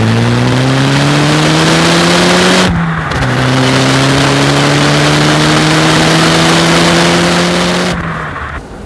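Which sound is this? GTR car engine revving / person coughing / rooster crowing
GTR car engine revving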